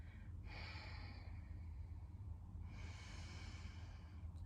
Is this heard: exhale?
yes